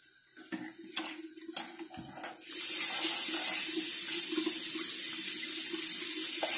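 Water gushes steadily from a tap into a sink after a few light clinks and taps, the flow starting abruptly and running loud and close until the end.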